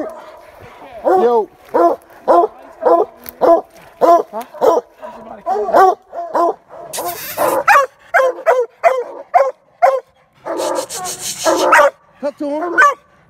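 Hunting dogs bay and bark at a treed raccoon during a night coon hunt, repeated loud close barks and yips in a steady rhythm, with a few rustling bursts and occasional talk between them.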